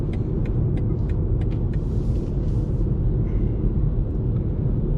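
Inside a 2020 BMW 118i on the highway, a steady, loud low road and engine rumble fills the cabin, with a few faint high clicks and some wind hiss, and no voices.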